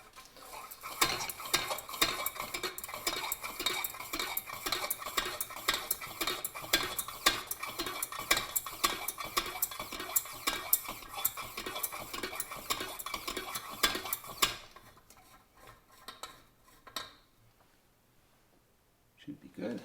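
Rapid rhythmic pumping clicks and squeaks from pressurizing the fuel tank of a 1950s Sears J. C. Higgins camp stove, steady and close, continuing about fifteen seconds before stopping, followed by quieter faint handling noises.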